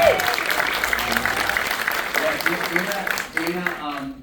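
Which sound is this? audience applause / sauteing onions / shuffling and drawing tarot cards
audience applause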